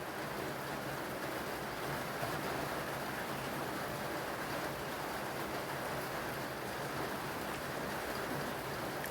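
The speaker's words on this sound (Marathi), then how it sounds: "बाहेर छान पाऊस पडतोय" Even, constant hiss of steady rain falling, heard at a moderate distance without any speech.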